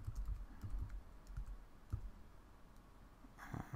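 Fingers tap on a computer keyboard at close range, a quiet run of irregular clicky keystrokes in short bursts with small pauses, ending in a slightly louder clatter.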